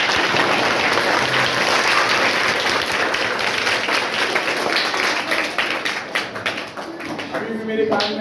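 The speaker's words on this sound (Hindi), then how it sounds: "तो जोरदार ताली" A room of students claps loudly, a dense sustained burst of applause that thins into scattered, uneven claps toward the end, with voices mixed in.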